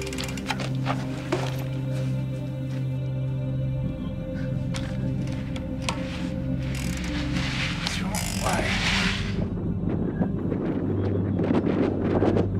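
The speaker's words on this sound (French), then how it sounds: "Il y a 60 km/h de vent" A 60 km/h windstorm rakes the Namibian desert, a continuous rushing roar with gusts buffeting the microphone and faint mechanical rattling and creaking underneath.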